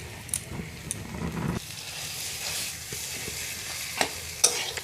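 Mashed potato sautés with cumin, coriander powder and chopped coriander leaves in a hot pan, sizzling steadily while a utensil stirs and scrapes, close up and with no voices.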